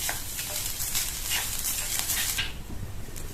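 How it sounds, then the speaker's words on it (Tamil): Coconut paste sautéed in oil in a pan for a poriyal, giving a steady soft sizzle with scraping stir strokes close up, continuous and without talk. "இந்த தேங்காய் கலவையை நல்லா 1 நிமிஷத்துக்கு இந்த எண்ணெயிலேயே நல்லா வதக்கி விட்டுக்கங்க"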